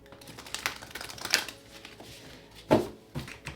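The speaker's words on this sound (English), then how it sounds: "2 more shuffles." Tarot cards shuffle close at hand in quick, uneven bursts of papery ticks and flicks, with a sharper riffle snap near the end, fairly quiet and without talk.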